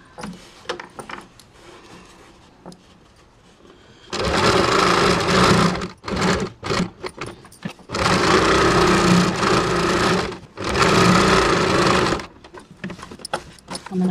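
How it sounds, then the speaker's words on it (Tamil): A sewing machine runs in bursts while stitching a designer blouse neckline, loud whirring runs of a few seconds each separated by pauses with fabric handling and quiet speech. "நான் ப்ரெஸ் தையல் போடுறேன்."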